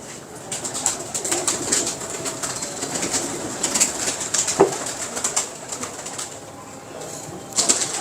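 Pigeons in Lahore cooing close by in a run of soft, repeated calls, with a few brief wing flutters and rustles between them. No one speaks.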